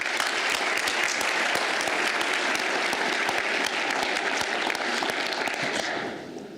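A hall audience at a city's State of the Union-style civic address claps steadily and densely for several seconds before the applause tapers off at the end.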